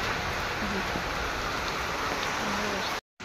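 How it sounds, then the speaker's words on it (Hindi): Heavy rain pours down in a steady, dense hiss that fills the whole stretch without a break, with a faint voice barely showing beneath it. "देखो ये भाव में मैंने वर्षा होती"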